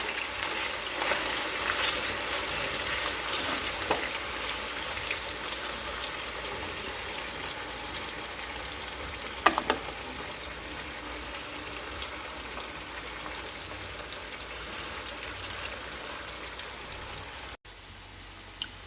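Marinated chicken pickle frying and turning brown in a pan: a continuous dense sizzle with soft crackles and a few louder pops, steady throughout, ending in a brief cut to quiet, with no voices.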